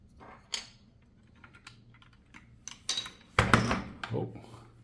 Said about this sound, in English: Let's replace the backspace.